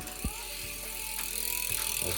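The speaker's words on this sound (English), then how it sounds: "this is the sound of the hubs." Freewheel hub clicking from a 2021 Giant Stance 29 mountain bike, a steady fine ticking rattle close by with a few soft knocks, no talking.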